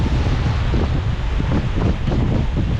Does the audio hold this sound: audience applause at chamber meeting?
no